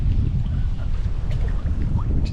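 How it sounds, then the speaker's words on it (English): Steady wind rushes across the microphone while someone paddles upstream in a gorge, a dense low roar with faint water splashes and no talk. "It's quite windy,"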